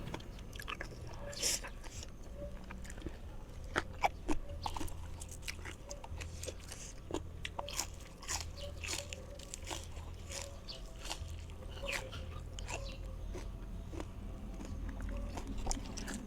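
Close, steady crunching and chewing of spicy papaya salad with pickled field crab, with repeated bites and wet mastication throughout and occasional speech in between.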